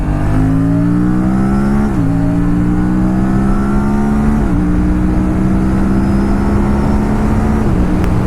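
An Aprilia RS 457 motorcycle fitted with a quickshifter and auto blipper, its engine loud and steady as pitch rises through several smooth gear changes, each marked by a quick dip before climbing again.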